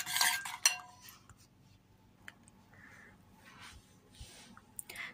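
A spoon clinks and scrapes against a bowl while marinade spices are mixed with chicken, with a few sharp metallic taps near the start and quieter scraping and rustling after, close and faint; no talking.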